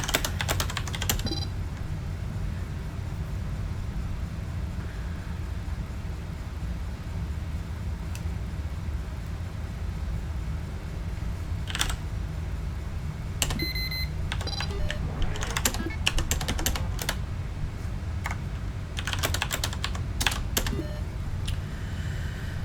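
Computer keyboard typing in the space derelict-exploration game Duskers comes as scattered bursts of clicky keystrokes over a low hum, mixed with occasional short electronic beeps and tones.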